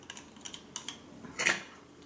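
Small handheld scraper shaving California onions for pizza sauce: a handful of brief, quiet scraping strokes, with one slightly louder rasp near the end and no talking.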